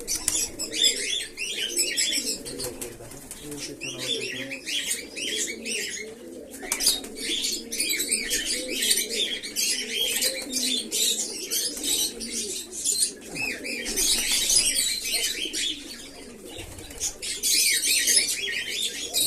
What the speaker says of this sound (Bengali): পায়রাটা অনেক পায়রা খাওয়ায় ব্যস্ত।